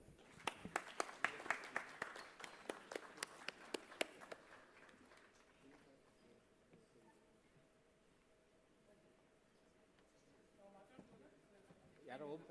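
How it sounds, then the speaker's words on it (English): An audience at a felicitation ceremony for a professor breaks into a brief round of applause, sharp claps fading out after about four seconds into a quieter room with a murmuring voice. "Big round of applause."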